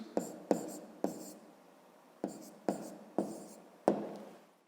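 Pen strokes scratch across paper while a math exercise is written out in a notebook, seven short close scratching bursts in an uneven rhythm with brief pauses between them.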